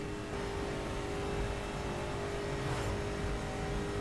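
A car engine revs steadily in The Crew racing game while driving across a dry salt lake, a continuous loud drone with no talk.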